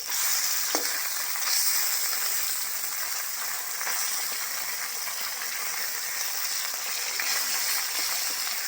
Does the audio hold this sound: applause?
no